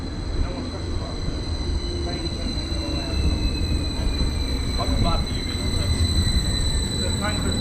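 A Greater Anglia class 755 train rolls into a station with a continuous loud rumble and a high steady whine, faint wheel squeals and distant announcements drifting over the approach.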